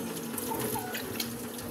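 Tap water runs steadily into a container, a continuous close splashing hiss with faint voices in the background.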